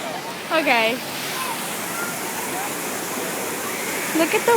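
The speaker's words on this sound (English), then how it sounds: "Look at the waterfall." A theme park waterfall roars as a steady broadband rush of falling water, with people speaking briefly over it at the start and end.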